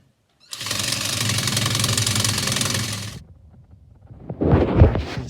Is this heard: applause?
no